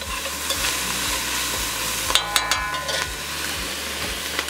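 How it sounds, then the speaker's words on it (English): Five or six small garlic cloves sizzle steadily in a pot, a continuous frying hiss with a few sharp clinks of a spoon stirring partway through. "And I got about 5 or 6 small cloves of garlic. So we're just gonna work on sauteing this down."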